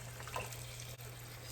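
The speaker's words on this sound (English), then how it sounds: "I'm gonna put water according to your package instructions." Water pours into a pot of soaked, rinsed quinoa as a faint, continuous trickling stream under a low steady hum, with no talking.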